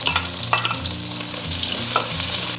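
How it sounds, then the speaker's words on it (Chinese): Pork belly stir-frying in a hot wok with oil, giving a loud continuous sizzle broken by scraping stirs, with no talk. "先下五花肉煸炒，把五花肉炒出油脂以后"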